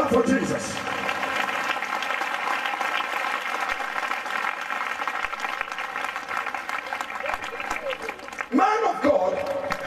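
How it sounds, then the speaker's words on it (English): Church congregation clapping during a prophetic service: a steady patter of many hands beneath a prominent voice and sustained tonal sound, with a louder swell of clapping near the end. "As they run, clap for Jesus."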